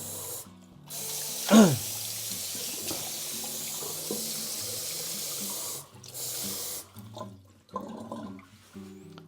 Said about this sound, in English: So I just take my glass and just a lukewarm water.